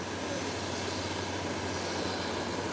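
A Twin Otter aircraft climbing away after a short-runway takeoff, its engine drone steady and distant, a broadband hum with a low tonal undertone that holds constant throughout.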